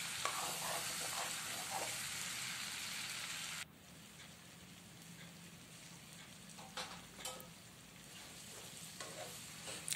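Food sizzles in a pan while being stirred, a loud hiss that drops suddenly to a quieter fry with intermittent scraping clicks, close up and without speech.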